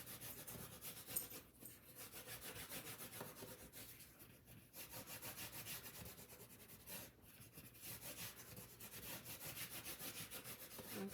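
Paper is burnished for an 8x8 scrapbook with a tool rubbed back and forth in a steady rhythmic scraping, quiet and close, without talk.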